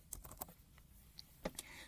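Light, scattered clicks of typing on a computer keyboard while entering text in AutoCAD, a handful of irregular soft keystrokes close to the mic with quiet gaps between them.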